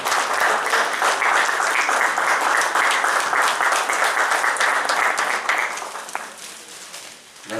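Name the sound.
audience applause welcoming a guest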